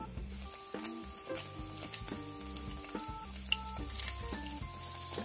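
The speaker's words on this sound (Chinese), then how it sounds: "用文火慢煎" Shanghainese soy chicken fries slowly in oil over low heat, a soft, steady sizzle heard close up with a few light clicks and no speech.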